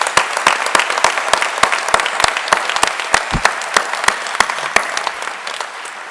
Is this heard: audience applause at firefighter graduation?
yes